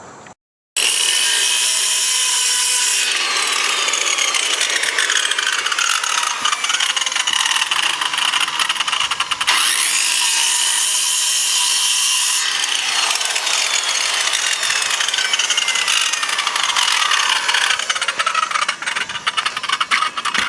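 Saw cutting into wood about a quarter inch deep makes a loud, continuous, close-up grinding rasp that runs almost without break for twenty seconds, with one short dip midway and no talking.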